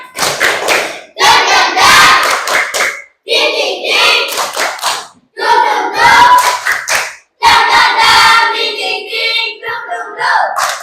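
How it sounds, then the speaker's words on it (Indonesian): Classroom children performing a rhythmic spirit clap in unison: bursts of patterned clapping mixed with chanting, separated by short pauses. "Tepuk semangat."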